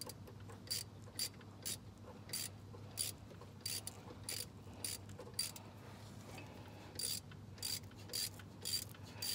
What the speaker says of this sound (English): Let me crank this tensioner all the way down